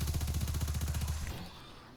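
Rapid video game gunfire fired through a placed barrier hammers out a fast, steady burst of heavy shots that stops abruptly after about a second and a quarter, leaving a fading tail.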